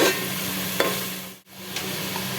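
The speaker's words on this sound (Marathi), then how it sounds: "आता हा कांदा हा कांदा परतून घेते मी आता" Chopped onion sautés in a pan with a loud, continuous hiss and a few soft stirring taps, briefly dipping quiet midway.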